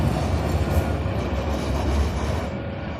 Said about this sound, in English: This one is a quieter tram,